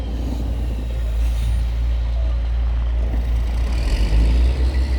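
A log truck runs near and loud in a cold winter yard, its heavy engine rumbling continuously while air-brake hisses come and go.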